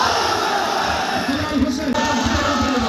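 A large crowd at a political procession chanting the Nara-e-Takbir slogan in unison, loud and close, voices rising together into a sustained roar.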